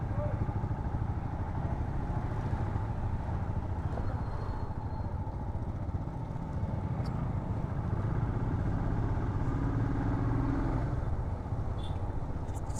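A group of five motorcycles on an Independence Day ride through North Bengal rumbles steadily and closely throughout, a continuous engine drone with some clatter, while people talk over it.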